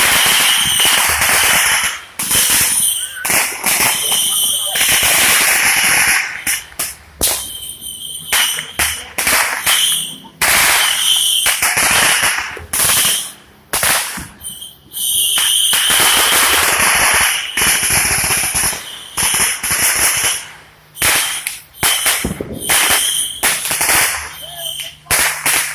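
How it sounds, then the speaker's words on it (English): Fireworks and firecrackers going off in loud, rapid strings of sharp cracks and pops, dense crackling bursts separated by brief gaps, close and continuing for a long stretch. "I'm gonna go see some fireworks."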